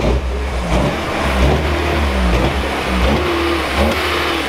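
A Volkswagen Golf engine revs unevenly up and down near the microphone, running rough with a wavering, stumbling note over a low idle rumble.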